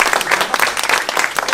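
A round of applause breaks out at a football club presentation, with dense, steady clapping from a gathered crowd filling the whole short stretch at close range.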